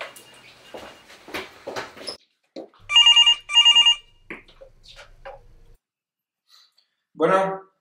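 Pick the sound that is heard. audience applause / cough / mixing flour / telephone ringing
telephone ringing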